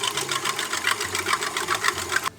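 A close, loud electric whisk buzzes steadily as it whips egg whites with vinegar, its rapid rhythmic whirr holding constant before cutting off abruptly at the end.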